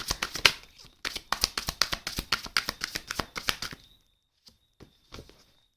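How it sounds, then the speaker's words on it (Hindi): A deck of tarot cards being shuffled fast and close, a dense run of crisp riffling snaps for about four seconds, then a few soft taps and a faint high tone in near silence. "फटाफट मैं निकाल लेती हूँ कार्ड्स"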